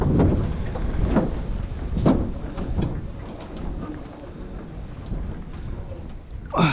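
Wind buffeting a microphone outdoors on a riverbank during high-water fishing, gusty low rumbling noise with a few soft thumps, fairly loud and continuous.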